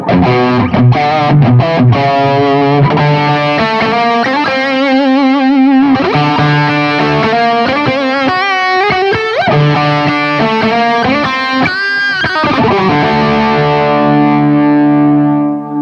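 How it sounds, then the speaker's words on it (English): An electric guitar plays a melodic phrase through a tube-driven distortion device with full gain, giving a loud, sustained, warm and thick overdriven tone with singing held notes and a ringing final chord. "it's a tube-driven distortion device, so it has another really nice, warm, fat quality to it"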